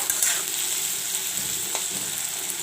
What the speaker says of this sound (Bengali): দেখুন, এবার চিংড়ি মাছটা ভেজে নেবো।